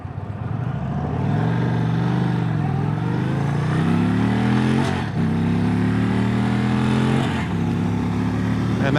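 Indian Springfield Dark Horse motorcycle (2025) pulling hard at wide open throttle, a loud, steady engine roar climbing through two long rising sweeps with a brief dip at each shift, with wind rush underneath.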